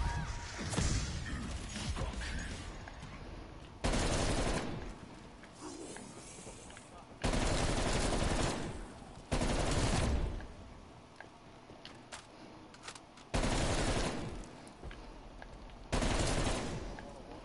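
Gunfire in a horror-themed video game arrives in loud, abrupt bursts every couple of seconds, each burst a dense crackling volley, with quieter game sounds in between.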